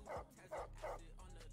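A dog in the GTA V video game gives about four quick, muffled barks in a steady rhythm, fairly faint and set against a continuous low background hum.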